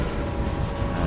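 Train rolling along the track in the Railway Empire video game, a steady continuous rumble with rail noise throughout the short stretch, fairly loud and alone with no talk.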